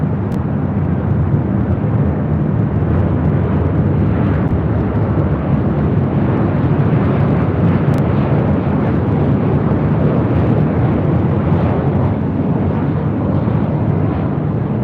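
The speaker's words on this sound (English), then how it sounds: "The American at 737-800 next up for arrival on 24 left." An American Airlines Boeing 737-800 arriving on runway 24 Left at LAX, heard as a steady, loud, broad jet roar that holds constant from start to finish with no talk over it.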